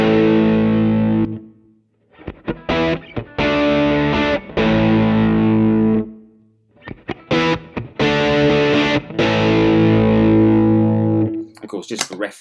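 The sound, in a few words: electric guitar through overdrive pedal, bridge humbucker pickup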